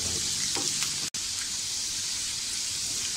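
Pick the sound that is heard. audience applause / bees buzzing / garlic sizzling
garlic sizzling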